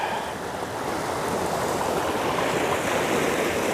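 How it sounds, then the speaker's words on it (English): A swollen river rushes steadily past, a dense, unbroken roar of flowing water heard close by with no voices. "River's still a bit busy."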